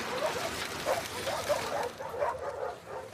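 Dog whimpers and yips in The Last of Us Part II, repeating in short bursts every half second or so at moderate level over a low background ambience.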